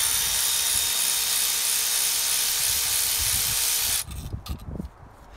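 A power tool with a T30 Torx bit spins out bolts on a Vauxhall Corsa coil pack, giving a steady high whir for about four seconds that cuts off into a few faint clicks and rattles.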